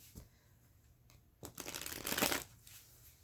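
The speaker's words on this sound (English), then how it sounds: "we'll shuffle it one more time and get started" Tarot cards are shuffled close up, a few quick riffles and slides building to a louder flutter, then fading.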